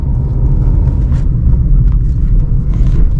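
A bus approaching along a busy road, heard as a steady, loud low engine rumble and traffic noise that holds throughout without a pause.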